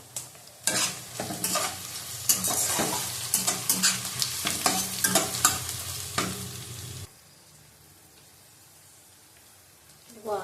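Whole garam masala frying in ghee, with close crackling sizzle and spoon stirring in bursts for several seconds, then a sudden drop to quiet near silence before a faint sound returns at the end.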